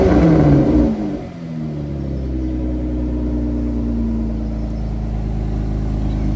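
Car engine in a scrapyard, first heard revving up loudly, then dropping back after a second into a steady, rumbling idle that continues to the end.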